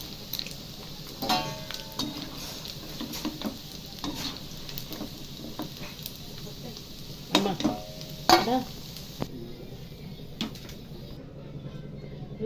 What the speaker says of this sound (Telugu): చికెన్ వేపుకున్నాం కదండి, డీప్ ఫ్రై చేసాం కదా